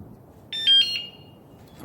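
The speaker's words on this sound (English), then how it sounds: "Disarming the bike with the new alarm." A new electric bike alarm gets disarmed by remote: a short cluster of bright electronic chirps, two or three quick beeps, sounds up close against near silence, with no speech.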